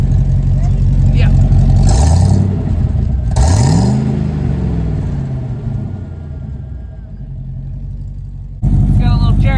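A 1990 Ford F-150 pickup engine revs up hard through a Cherry Bomb exhaust and settles into a throaty idle, loud and close, with a burst of talking at the end.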